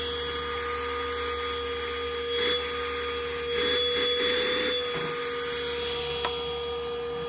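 A bee vacuum running flat out: a steady motorized whine with a constant hum, a few faint rubbing and bumping noises over the drone.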